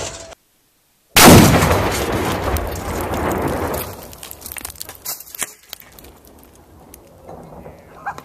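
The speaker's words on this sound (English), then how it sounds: "this is what 2 pounds of Tannerite will do" A .50 BMG rifle shot sets off two pounds of Tannerite under a riding lawnmower, giving one loud outdoor blast followed by a long rumbling roar that fades out, with scattered debris sounds afterward.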